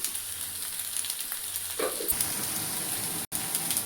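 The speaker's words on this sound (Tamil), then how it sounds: "நம்ம வெங்காயத்தை போட்டுக்கலாமா? வந்து கலர் மாறுற அளவுக்கு வதங்கணும்." Sliced onions frying in a clay pot for quail biryani give a continuous soft sizzle with a brief stir partway through, heard close and at moderate level.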